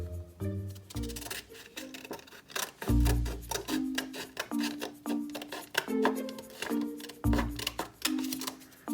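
Scissors snip repeatedly through a note card while cutting out paper hoops for a hoop glider, a series of close, crisp cuts in an uneven rhythm with no speech.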